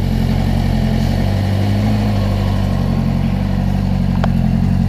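The engine of a homemade side-by-side runs at a steady idle nearby, a loud, even low rumble with a slight clattering texture.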